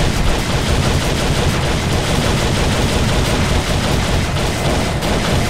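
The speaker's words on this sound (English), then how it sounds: "Glock 19 with an extendo mag" Rapid gunfire from a Glock 19 with an extended magazine in a video game, a loud, dense, continuous barrage of shots that stays steady throughout with no talk.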